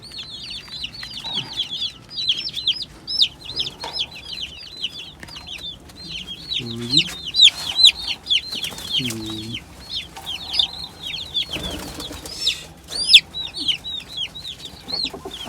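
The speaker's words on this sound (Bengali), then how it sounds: "একটা একটা করে মুরগির বাচ্চা ধরে রেখে দেবো।" Ten broiler chicks peep on a rooftop garden, a rapid stream of high, close chirps with a few faint low sounds in the background.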